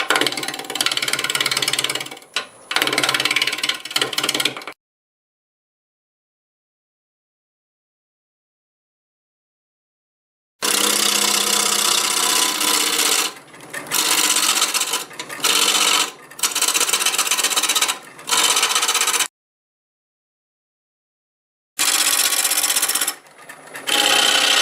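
A wood lathe turns a natural-edge maple burl at about 550 RPM, loud scraping and rasping bursts of cutting broken by several stretches of complete silence, with no talking.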